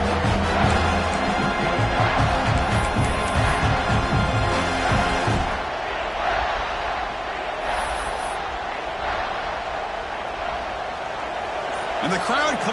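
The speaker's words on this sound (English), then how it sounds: "And the crowd coming to life here" A stadium crowd at a football game roars loudly and continuously, swelling and sustained beneath a commentator talking over it, with a brief quieter dip before the cheering rises again.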